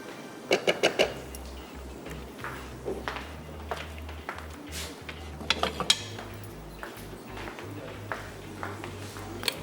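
Red lobia biryani served onto a platter: a run of quick metal-on-dish clinks and taps, then spaced scraping and clatter of a serving spoon against the plate. The sounds are fairly quiet and close.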